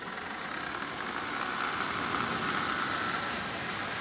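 A Marx 1666 toy train locomotive runs along the track with a slipping wheel, making a continuous buzzing, rattling whir of motor and gears at close range that swells slightly midway.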